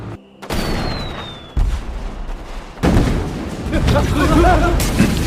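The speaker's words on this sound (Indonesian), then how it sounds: "dengan menggunakan senjata berpeluru karet dan petasan sebagai bomnya" Rubber-bullet guns and firecrackers used as bombs crackle and boom through a staged war training exercise, with repeated bursts of gunfire and blasts layered over continuous noisy action, loud and dense throughout.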